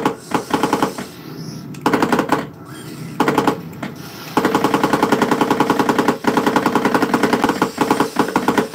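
Gunfire in a Walking Dead lightgun arcade game sounds as rapid automatic bursts. Short stuttering volleys give way to a long, loud, sustained stream of shots, close and harsh, with no voice over them.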